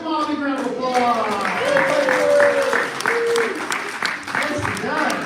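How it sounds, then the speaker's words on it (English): An audience claps for a young volunteer returning to her seat during a magic show, the applause running under a prominent voice that talks over it from start to finish. "You can all have a seat with mommy, round of applause"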